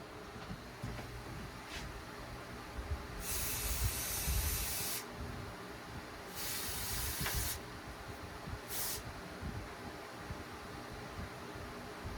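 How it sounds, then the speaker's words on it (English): Three short bursts of aerosol spray hiss loudly and close while a screw part is hosed off during a Kawasaki Concours 14 clutch master cylinder rebuild, separated by quieter pauses with low background noise. "Just hose the screw off real quick."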